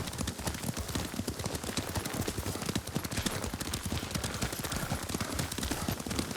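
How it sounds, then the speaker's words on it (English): Rapid, continuous horse hoofbeats clatter at a gallop in the video game Ghost of Tsushima, dense and even, with a rushing wash of noise behind them. "Lord Sakai taught me to ride a horse."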